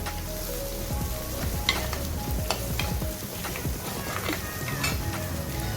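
Sliced garlic and a small piece of ginger sizzle in hot oil in a pan for fish molee, with steady frying hiss and occasional stirring scrapes and utensil clinks against the pan.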